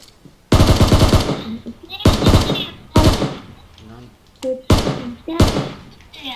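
Rapid bursts of automatic gunfire in the mobile battle royale game PUBG Mobile, five loud clustered volleys with short gaps, heard alone without talk.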